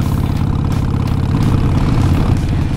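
A 2014 Harley-Davidson Iron 883 Sportster engine runs loud and close, a deep, even rumbling throb that holds steady throughout.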